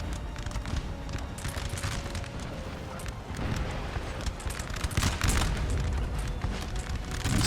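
Artillery fire in Napoleon Total War, with repeated deep booms and cannon blasts rolling over a continuous battlefield din, growing louder toward the end.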